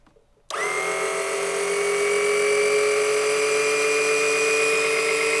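A small oil extraction pump switches on abruptly and draws oil out of a jet ski engine. It settles into a steady, close, droning whine that holds constant to the end.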